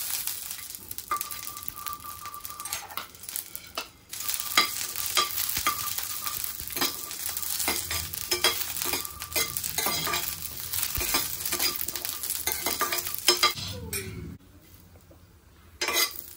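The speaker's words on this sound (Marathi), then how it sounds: "मिरची आणि लसूण आपल्याला परतून घ्यायचं आहे।" Green chilies and garlic fry in a little hot oil, a close continuous sizzle broken by repeated spatula stirs and metallic clinks against the pan, then a brief quieter stretch near the end. No one talks.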